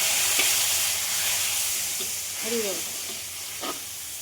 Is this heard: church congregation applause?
no